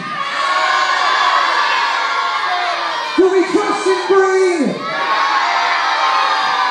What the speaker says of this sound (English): the crowd's saying no.